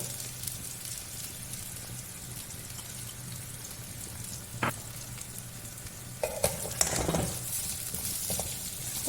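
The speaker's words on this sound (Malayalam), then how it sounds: "ചെറുങ്ങനെ ഒരു ബ്രൗൺ നിറാവും നേരെ വറക്കുക" Grated coconut roasting in a pan with a small piece of tamarind, stirred until brown for a chammanthi, giving a soft, continuous dry sizzle with occasional scraping stir sounds growing louder near the end.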